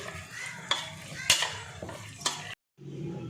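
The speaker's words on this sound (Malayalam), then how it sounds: "നന്നായിട്ട് മിക്സ് ചെയ്ത് വേകാൻ വെക്കാം." Beef being mixed with turmeric and salt in a pot, a few soft scraping and clinking stirs with light sizzle between them, quiet and close, followed by a brief silence.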